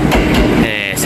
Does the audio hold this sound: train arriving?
yes